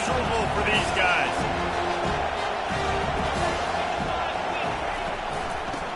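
Stadium crowd roaring throughout a college football video game, a loud steady wash of noise with commentary talk over it.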